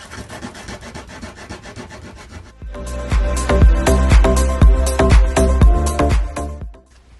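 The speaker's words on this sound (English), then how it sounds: "So then some sandpaper, I'm just going to sand some of this glitter off." Sandpaper scrubs glitter off a decorative craft piece, first in quicker light strokes, then in louder, heavier rhythmic back-and-forth rubbing close up before it stops.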